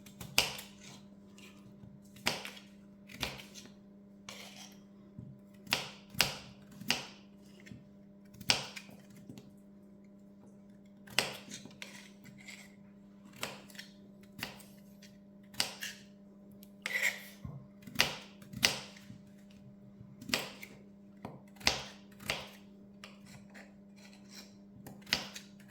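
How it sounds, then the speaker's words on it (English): Kitchen knife chopping leeks on a board for leek and potato soup, sharp irregular knocks in quick clusters with pauses, close and crisp over a steady low hum. "So I'm just going to go ahead now and chop this up."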